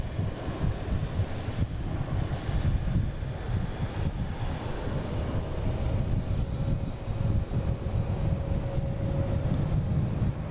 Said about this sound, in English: we got a Delta taking off here, heading to Raleigh, Durham